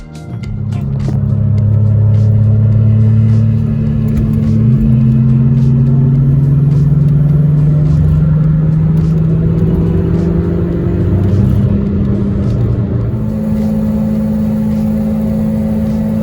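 An Audi 90 Quattro with a straight pipe exhaust drones steadily while driving, a loud, continuous low engine rumble with slight shifts in pitch as it cruises, heard from close by with no talk over it.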